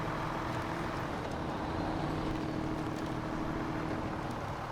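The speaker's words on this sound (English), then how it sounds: "I do enjoy the sound effects of this truck." Ziks 605R truck engine in the SnowRunner video game, a steady meaty low rumble with broadband noise, continuous and fairly loud throughout, no talking.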